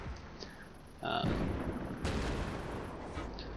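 A Russian WZ-112 tank's main gun fires in a video game, one sharp heavy boom followed by a rumbling tail over faint background game noise.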